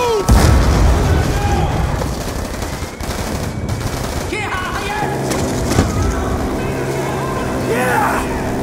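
A grenade goes off in Call of Duty Black Ops 2 with a heavy boom early on, followed by continuing gunfire and battle noise while soldiers shout over the action.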